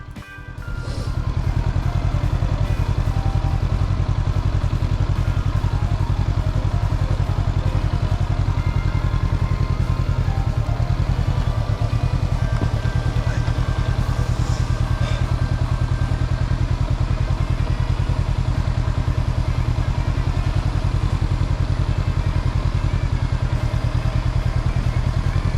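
Honda CBR500 Hornet motorcycle running steadily during a U-turn riding exercise, a continuous low engine drone with mechanical clatter, close and fairly loud throughout with no speech.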